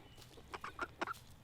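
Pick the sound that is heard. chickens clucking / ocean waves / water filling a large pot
chickens clucking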